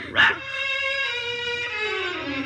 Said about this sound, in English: there's a little brown and white dog looking all over for you